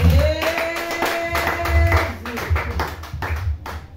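A church congregation claps in acclaim of Jesus, a burst of rhythmic hand claps mixed with voices and a sustained sung or called note, fairly close and loud.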